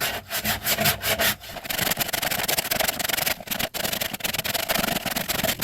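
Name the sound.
sanding down edges of pigeon feeder part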